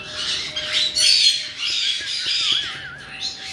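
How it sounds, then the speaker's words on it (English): A pet bird squawks repeatedly and loudly up close, harsh rasping calls with a brief warbling whistle near the end, indoors with no voices. "Spikey Bird! What you doing?"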